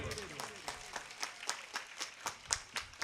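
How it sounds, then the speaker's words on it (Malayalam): An audience at a gathering claps in a brief, fairly faint burst, with separate claps scattered at an irregular pace rather than a full roar. "നല്ലൊരു കയ്യടി തരുമോ?"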